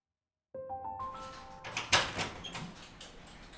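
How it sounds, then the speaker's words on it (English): An automated sliding office door glides open late at night: a soft rising mechanical tone and whir, then a rushing slide with a sharper thump partway through, fairly close and alone. "he heard the automated sliding door slide open"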